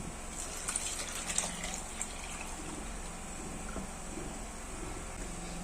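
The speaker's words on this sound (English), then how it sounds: "you go ahead and add this water into your bathing bucket" Water boiled with cloves is poured from a pot into a bathing bucket, a steady close gush and splash that runs evenly throughout with a few small sloshes near the start and no talking.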